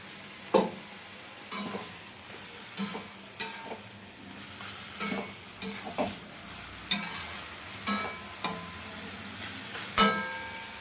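A bay leaf sizzles in hot mustard oil for a Bengali rohu fish curry, with a steady frying crackle broken by sharp stirring clinks and scrapes every second or so, close and clear with no talk.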